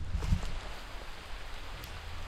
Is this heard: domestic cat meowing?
no